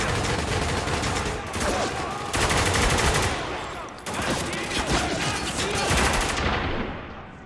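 Dense gunfire from soldiers opening fire in Spec Ops: The Line, a sustained loud fusillade of overlapping automatic bursts with brief dips, filling nearly the whole stretch and fading slightly at the end.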